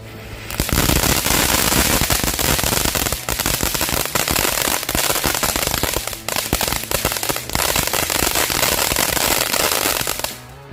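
Magical Cassandra firecrackers going off, a loud, nearly continuous rapid crackle of pops and bangs that runs for about ten seconds before stopping abruptly.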